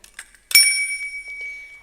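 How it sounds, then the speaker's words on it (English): A small bell is struck once after a few faint taps, ringing out clear and bright, then fading slowly in a long shimmering tone. "Every time a service is done, I now have this bell to remind me."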